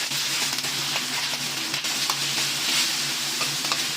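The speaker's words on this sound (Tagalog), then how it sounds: "So magpapainit na tayo ng mantika para pangprituhan. Lagay muna natin yung shrimps." Fresh cleaned shrimps fry in hot oil in a pan, giving a loud, steady sizzle and crackle throughout, with occasional light stirring and no talking.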